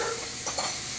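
Sliced baby portobello mushrooms sizzle in a frying pan with oil and butter, a close steady hiss broken by a couple of brief stirring scrapes.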